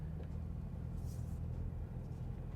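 A Toyota GR86 driving, heard as a steady low engine and road rumble from inside the car with no clear revving, constant in level throughout.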